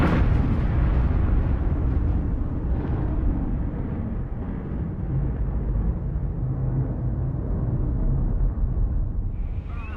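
A massive explosion of a runaway chemical reactor at a laboratory, heard as a loud broadband blast that begins abruptly and keeps up a sustained heavy roar and rumble throughout.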